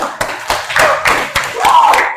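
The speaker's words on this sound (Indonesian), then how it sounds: "Oh, tepuk tangan dulu." Classroom applause for a student: a burst of hand clapping from a group of pupils, fairly close and moderately loud, with sharp irregular claps over about two seconds.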